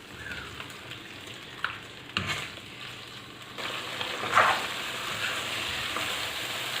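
Meat fries in a karahi for charsi karahi, a continuous moderate sizzle marked by sharp stirring scrapes and clatters, growing a little louder and busier in the second half.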